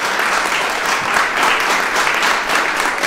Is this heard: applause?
yes